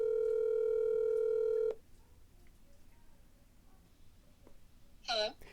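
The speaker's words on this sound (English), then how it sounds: "Haley's coming up on the horn now" A telephone dial tone hums steadily for under two seconds while a podcast host calls in a guest, then cuts off to quiet line hiss, with a brief chirpy electronic warble near the end.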